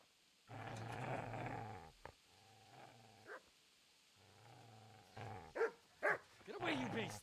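A dog in the Kingdom Come: Deliverance video game growls in long rumbling bursts, then breaks into several sharp barks, close and fairly loud.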